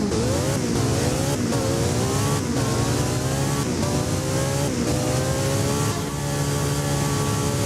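A Porsche 918 in the Driving Empire racing game revs hard and climbs repeatedly, with crisp downshifts breaking up a loud, continuous engine howl that has no talking.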